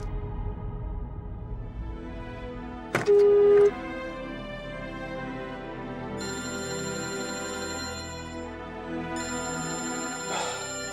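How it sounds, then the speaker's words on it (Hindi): A phone rings with a repeating electronic melody over a low background murmur, preceded by a sharp click and a brief beep. "पहले रमन भाई को दोबारा फोन लगा।"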